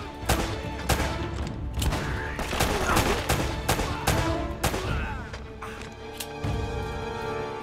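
Rapid gunfire crackles through a firefight in the video game Uncharted: Drake's Fortune, dense overlapping shots and bursts filling the whole stretch, loud and continuous with sharp individual reports.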